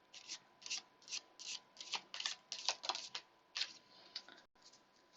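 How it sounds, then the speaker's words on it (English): Tarot cards being handled and drawn from a deck, a run of quiet, crisp papery riffles and flicks in quick bursts, close and soft, with no talking. "I'm gonna draw one last card here to focus on for balance"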